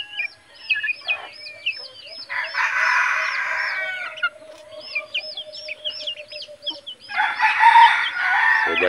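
Red junglefowl (labuyo) chickens cluck in a rapid, repeated series while a rooster crows loudly twice in long drawn-out calls, all close by with no voices.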